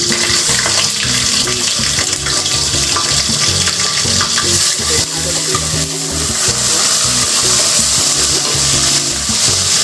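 Onions frying in a pan give a loud, continuous close-up sizzle with clattering stirring sounds throughout and no voices.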